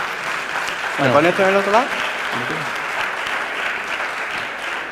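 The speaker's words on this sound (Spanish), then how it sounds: "Un fuerte aplauso para los hombres." A conference audience gives a strong round of applause for two male presenters, the broad clatter of many hands running throughout while a nearby voice speaks briefly over it partway through.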